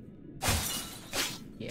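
Glass bottles smash in a video game, two sharp shattering crashes about three quarters of a second apart, followed by the start of a third break, each burst bright and close.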